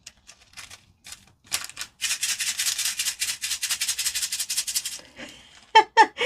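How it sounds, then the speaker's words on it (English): Rapid rattling of many small plastic diamond painting drills shaken inside a bag with a dryer sheet, a steady gritty shuffle that runs for several seconds and then trails off into a few sharp shakes. "You're just going to keep hearing the shaking."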